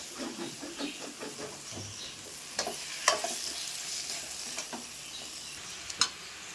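Vegetables for veg fried rice are stir-fried in a hot pan, giving a steady sizzling hiss broken by scraping and stirring clatter and a few sharp clinks of the utensil against the pan.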